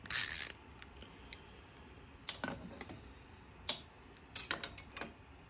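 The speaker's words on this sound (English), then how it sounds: "So it clicks when I turn to the left and it's tight when I turn to the right." A ratchet wrench works on bolts of a Honda CB350 motorcycle engine during cam chain tensioner installation, giving quiet scattered clicks and short bursts of metallic ratcheting, close and faint, with no talking.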